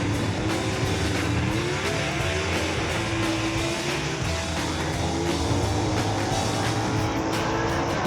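Gasser drag race car at a Southeast Gassers event roars at full throttle down the strip, a loud continuous engine drone with rising pitch, close and unbroken, no voices over it.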